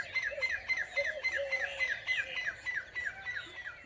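Morning birdsong on a farm with mango trees, a rapid series of sharp chirps and squawks repeating in quick rhythm, fairly near and lively over soft background.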